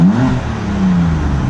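A 2015 BMW M4 Competition Package engine in sport plus mode with exhaust valves open, revving steadily for under two seconds with a deep, rising and falling drone, loud and close, with no talking.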